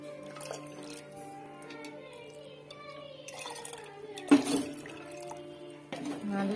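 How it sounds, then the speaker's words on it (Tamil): Cow's milk and coconut milk poured into a pot already at a boil while making paruthi paal, a liquid splash and clatter standing out midway over a steady cooking hum, with faint voices nearby. "இப்போ நம்ம பசும்பால் சேர்த்துக்கலாம் பசும்பாலும் தேங்காய் பாலும் சேர்த்துக்கலாம்"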